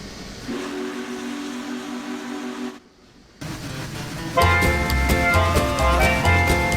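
Union Pacific Big Boy steam locomotive in Train Simulator 2021 sounds a long steady whistle tone, cuts briefly to near silence, then returns with rumbling running noise and a bright, multi-toned whistle blast over rhythmic chuffing.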